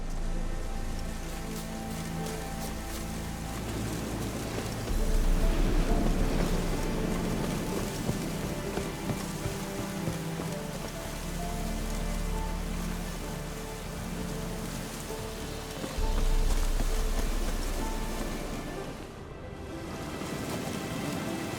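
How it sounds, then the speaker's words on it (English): Steady rain falls in The Witcher 3: Wild Hunt, a dense, continuous hiss of drops with low swells of wind or water underneath, heard alone without voices for the whole stretch. "Looks like rain."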